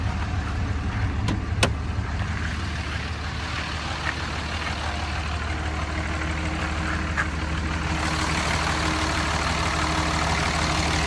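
Engine of a 2004 Dodge Ram pickup settling into a steady idle, a low constant hum with a few sharp clicks early on and a slight change in tone partway through, close and unaccompanied by voices.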